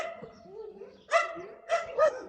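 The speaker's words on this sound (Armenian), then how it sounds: "Վերևի կամանդը իրանց վրա է հաչում։" Dogs from a neighbouring pack bark a few times in short bursts, moderately near, after a lower whining growl, with no talk over them.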